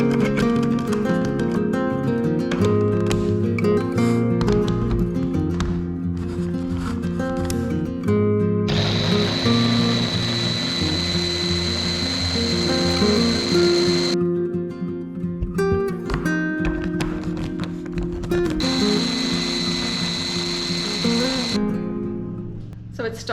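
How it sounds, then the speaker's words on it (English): A food processor purees melons with lemon juice, whirring loudly in bursts with pauses between them, while music plays underneath throughout. "you want to puree your melons with 1 teaspoon of lemon juice"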